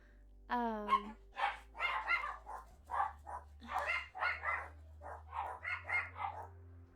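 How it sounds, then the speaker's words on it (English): Several dogs bark in quick, uneven bursts, with a yelping whine at the start, set over a steady low hum, in the video game Guild Wars 2. "I think they're just barking to bark."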